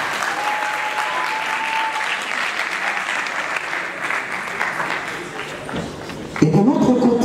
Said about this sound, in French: Pendant qu'ils avancent, on applaudit les deux.